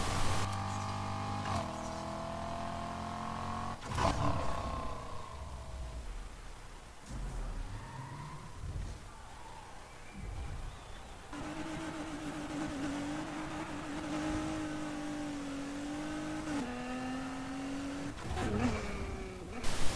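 An upgraded Ford Mustang in NFS Heat accelerates through its gears at high speed, its engine rising in tone with each gear, breaking at shifts and climbing again, with a rough rumble of rain and thunder behind it.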